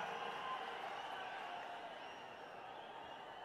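An audience at the TVK party's Madurai conference gives steady, even applause. Faint and distant, the clapping holds as a continuous wash.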